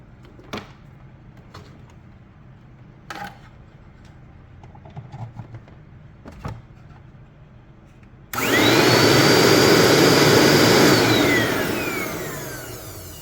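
A Bissell Little Green Pro Heat carpet cleaner, just repaired, starts up suddenly after a few quiet clicks and knocks, then runs with a loud steady whirring motor whine, close by, easing slightly toward the end.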